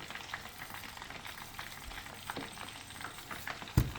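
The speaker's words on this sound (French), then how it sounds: "Mon poulet est en train de griller" Chicken marinated in lemon juice, parsley and salt grills in a pan with a quiet, steady sizzle and occasional small pops, heard close up with no voices.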